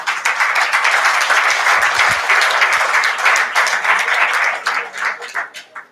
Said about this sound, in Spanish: Para ellos un gran aplauso y bienvenidos.